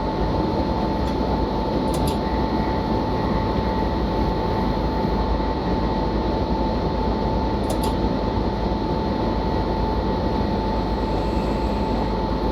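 A BR 189 electric locomotive runs in Train Simulator Classic while hauling new cars, giving a steady, dense rumble and hum with a constant tone on top and a couple of brief clicks, heard alone without talk.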